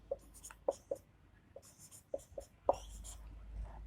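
A pen writes out exponents by hand on paper, producing short scratchy strokes in quick irregular bursts, close up and fairly quiet, with no talking.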